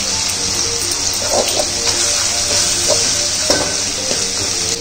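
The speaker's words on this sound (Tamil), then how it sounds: "நல்லா கிளறி விடுங்க. இது ஒரு ஒரு நிமிஷத்துக்கு நல்லா வேகட்டும்." Squid pepper fry sizzles loudly and steadily in a pan while it is stirred, with scraping and clattering stir strokes over a constant hiss and no talking.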